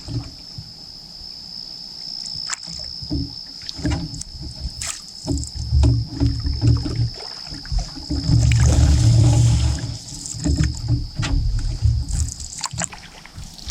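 Canoe paddling across water at night, with repeated paddle strokes and water swirls rising and falling in a steady rhythm, close by, over a constant high insect-like whine and no talk.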